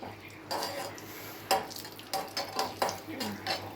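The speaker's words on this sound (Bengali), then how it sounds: "ঘিটা গরম হয়ে গেছে, কাজুগুলো ভেজে নিচ্ছি।" Broken cashews fry in hot ghee in a pan at close range, with a soft bubbling sizzle. Several sharp metallic clinks of a stirring spoon against the pan cut through it.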